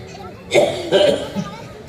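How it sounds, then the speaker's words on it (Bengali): A person gives a couple of short coughs in quick succession during a comedy stage show, close and fairly loud against a quiet background. "আরে ভাই কাশি হয়েছে।"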